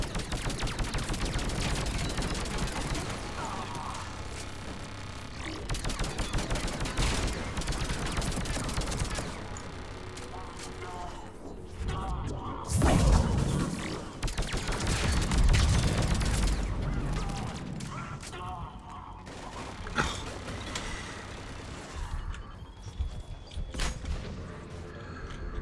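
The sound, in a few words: turret gunfire in video game Mass Effect 3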